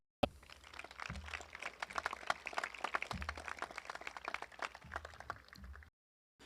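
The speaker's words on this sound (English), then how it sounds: "Let's give them all a round of applause" Audience applause at a high school graduation, a sustained burst of many hands clapping with crisp individual claps, fairly faint and distant, starting abruptly and cutting off before the end.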